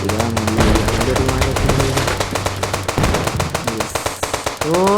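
Rapid bursts of gunfire in a zombie video game crackle nonstop, sharp repeated shots in a fast rhythm, loud and close, with no talking.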